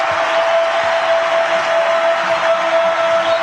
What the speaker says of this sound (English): That's some hometown cheering going on right there